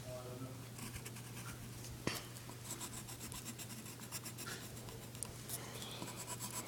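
A coloring tool scratches and rubs steadily across drawing paper while a picture of an orange bird is filled in, a soft, continuous, close-up scribbling with a low steady hum underneath.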